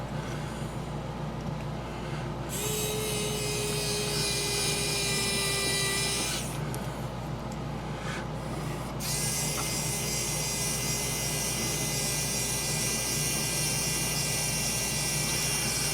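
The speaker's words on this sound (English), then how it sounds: "Now I need to drill this hole." A steady, high-pitched motorized whine from a slow drill boring a hole in styrene plastic runs in two long stretches with a short pause between, over a constant background hum.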